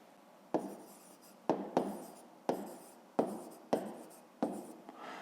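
A pen writes numbers on paper in a run of about eight short scratchy strokes with small gaps between them, close and quiet, with no voices.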